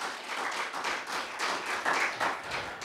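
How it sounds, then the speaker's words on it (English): A church congregation claps in praise during a Sunday worship service, a dense, continuous burst of many hands at moderate volume lasting a few seconds. "Let's give Jesus one more hand clap of praise."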